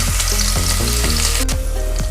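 Onions sizzling and frying in ghee and coconut oil inside a cooker, a steady loud crackle with rhythmic stirring scrapes, no voices.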